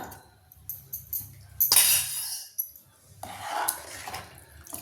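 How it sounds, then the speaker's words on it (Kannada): Radish sambar is stirred in a pot, with a utensil scraping and clinking against the metal in short close bursts separated by quiet gaps. "ಚೆನ್ನಾಗಿ ಒಂದ್ಸಲ ಕೈ ಆಡಿಸ್ಬಿಡ್ತೇನೆ"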